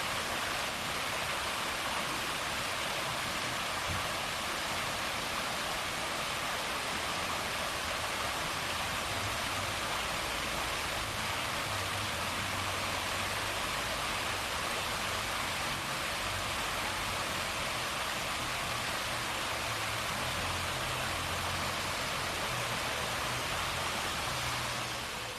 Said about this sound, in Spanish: Vamos a escuchar el agua